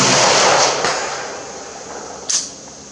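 Two AK-12 rifle shots at an outdoor range using open sights: a loud, sharp crack that rings out and decays, then a second, quicker report a couple of seconds later.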